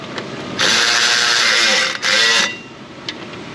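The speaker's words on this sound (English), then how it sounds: "a little ratchet coming in just to run these down." Small ratchet running down transmission pan bolts on a 2016 Chevy Tahoe with a 6L80 transmission, two fast buzzing whirs of clicking pawl, about 1.5 seconds and then half a second, close and loud with a brief pause between.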